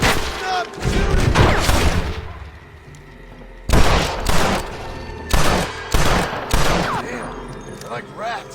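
Gunfire in the Red Dead Redemption video game comes in loud, close bursts of rapid overlapping shots, one long volley followed by several shorter ones, with brief lulls between them.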